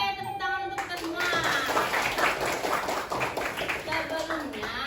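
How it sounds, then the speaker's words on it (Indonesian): A school class applauding together, steady close hand clapping running under children's chatter and a teacher's voice. "tepuk tangan untuk kita semua"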